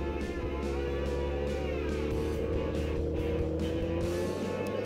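A car engine during a road rage incident, with a steady low hum and drone from a pursuing vehicle and faint whooshes of passing traffic, continuous and moderately close, with no voices.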